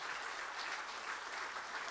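A hall audience applauding at a formal award ceremony: dense, steady clapping from many hands, continuous and even throughout, heard from a moderate distance with no voices over it.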